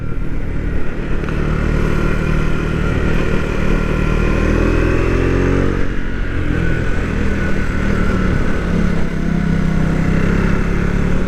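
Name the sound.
motorcycle engine accelerating during test ride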